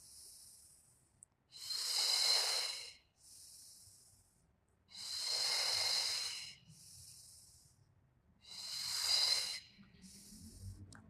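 Three long, strong hissing breaths during a yoga exercise, evenly spaced with quieter breaths between them, close and loud, with no talking.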